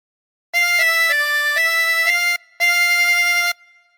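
Chromatic harmonica playing a phrase of the Star Spangled Banner: clear sustained reedy notes stepping through a short melody, close and bright, with one brief breath gap before a final held tone.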